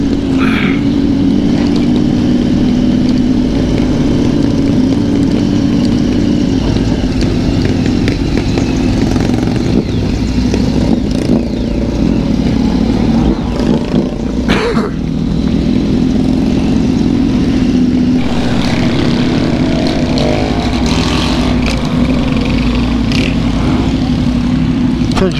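A motorcycle engine drones loudly and continuously at close range, with the pitch shifting as it rides, plus wind and road noise.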